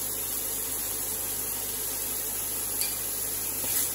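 Garlic and onion frying together in a pan for a shepherd's pie, a steady, even sizzle with a faint clink or two near the end and no talking.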